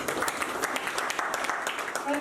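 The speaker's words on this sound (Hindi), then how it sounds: "सर के लिए जोरदार तालियां" Audience applause at an office opening celebration, a steady wash of many hands clapping at moderate volume throughout, with some crowd noise mixed in.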